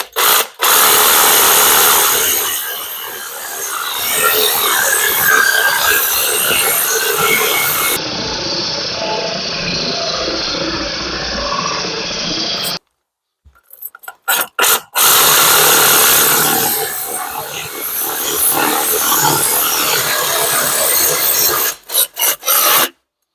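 A reciprocating saw cutting into a very tight brick mortar joint gives a loud, continuous harsh rasping buzz close up, running in long stretches that stop abruptly, briefly restart in short bursts, then run again before cutting off.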